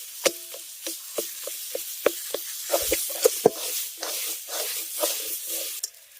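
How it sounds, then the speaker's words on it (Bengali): Banana flower being sautéed with grated coconut in a pan, giving scattered stirring scrapes and clicks of a spatula over a soft, steady sizzle, close and moderately loud, with no talking. "এবার সমস্ত কিছুকে খুব ভালো করে আমি কষিয়ে নেব"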